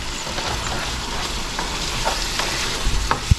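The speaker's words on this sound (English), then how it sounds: "want to give that a stir" Chicken teriyaki with vegetables sizzling loudly in a pan while being stirred, a continuous frying hiss with occasional utensil scrapes and a sharp knock at the end, close and without talk.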